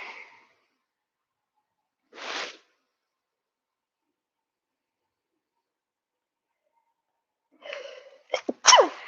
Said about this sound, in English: When the sneeze is coming, you can't stop it.